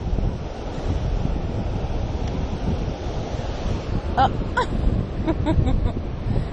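Ocean waves wash steadily up a sandy beach in a continuous broadband roar, with wind buffeting the microphone and a few faint clicks near the end.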